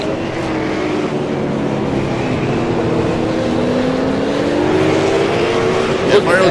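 Race cars battle wheel to wheel for sixth place in a sim racing game, steady loud engine drone with a rising pitch sweep as revs climb, continuous throughout and slightly louder toward the end, under commentary talk.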